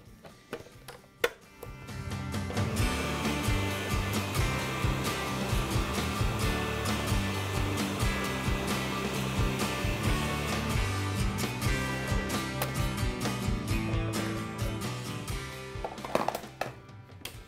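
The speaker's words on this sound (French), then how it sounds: "en ajoutant un petit peu de lait et de crème dans mon broyeur" A food processor blending a little milk and cream runs with a steady loud whir for most of the time, starting and stopping with brief knocks at either end.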